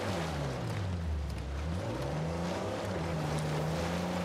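A buggy engine drones steadily while driving in Uncharted 4, its pitch sliding down and back up as the revs change, with rumbling wind and terrain noise throughout and no speech.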